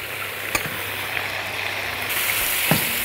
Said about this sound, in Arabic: بدأت تسخن اهي الفراخ، معاها البصل والثوم، معاها الزبدة والملح والفلفل والزعتر